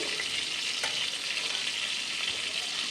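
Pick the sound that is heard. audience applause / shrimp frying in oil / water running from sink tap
shrimp frying in oil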